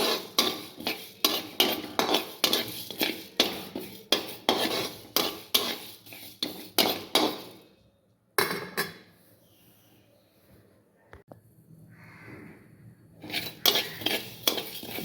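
Rice being dry-roasted in a pan for a Brahmin-style methi mukkala pulusu, a spoon scraping and tapping the pan in a steady rhythmic stir for about eight seconds, then a quiet pause before the stirring resumes faintly.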